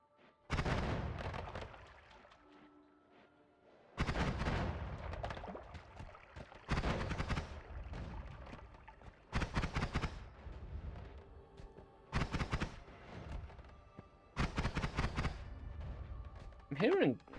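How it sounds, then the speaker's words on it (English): Shotgun blasts and explosions in Noita come as several loud, sharp booms with rumbling tails, spaced a few seconds apart, each fading before the next, with no talking. "I'm hearing loud explosions, but I think it's just the actual shotguns making weird sounds."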